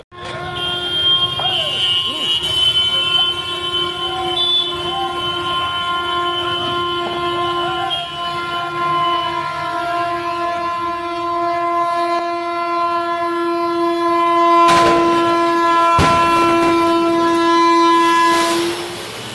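A train rumbles past a railway crossing after hitting a goods lorry, its horn sounding almost continuously, loud and sustained, with clattering and voices mixed in around it.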